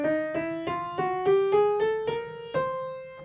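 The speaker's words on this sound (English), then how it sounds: "now you notice I played a chromatic scale, but I left one note out" A chromatic scale with one note left out, played on a piano as a rising run of about nine distinct notes in even succession, ringing clearly with no talk.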